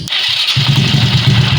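A 70cc motorcycle engine cranks briefly on its self starter and catches, settling into a loud, close, steady idle with an even low throb.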